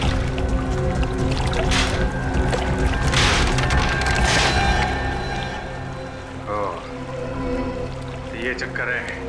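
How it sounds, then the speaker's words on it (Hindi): Water pours and splashes inside a concrete water tank that is being dug open, with fish in a hidden inner tank. Voices talk over a steady wash of water, with a brief gurgle near the end. "पानी की आवाज?"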